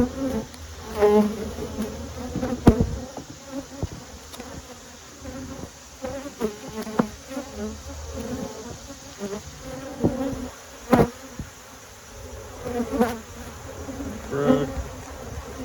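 Honey bees buzzing around an open hive during inspection, a close, uneven droning hum rising and falling as individual bees fly past, with faint handling noises and light talk in the background.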